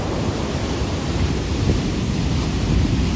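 Heavy storm surf pounds the Sochi shore, a loud, continuous rumbling wash of breaking waves close by with wind roar and no voices.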